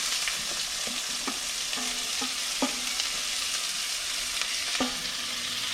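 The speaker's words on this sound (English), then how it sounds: "whole cumin seeds, about 1 to 2 teaspoons, and you can hear them already cracking" Whole cumin seeds and onion sizzling in a hot pan for vegan chana masala, a continuous close frying hiss with scattered pops and crackles and occasional stirring scrapes, no voices.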